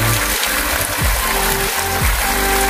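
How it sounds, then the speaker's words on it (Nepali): Mountain water pours steadily from a village spout in Syangja, Nepal, a loud, unbroken rushing babble, with deeper hums drifting beneath it. "यसो धारामा कलकल कलकल कलकल मूल धारो पानी"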